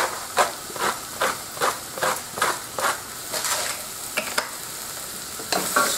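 Onions and garlic fry and sizzle in a pan on a Big Green Egg grill, with a steady hiss broken by regular stirring scrapes roughly every half second, close and clear with no talking.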